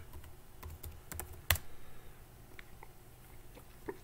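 Keystrokes on a computer keyboard as a password is entered remotely into Termux on an Android device, scattered light taps with a sharper click near the middle, fairly close and without speech.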